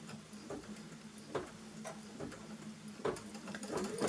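Sewing machine stitching down a flipped-over fabric piece, heard close as a steady mechanical hum with rhythmic ticking needle strokes and a few louder thumps, and no voices.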